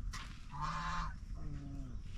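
Ducks in a park at Mukutmanipur give a few nasal, honking calls up close, with two drawn-out quacks following each other.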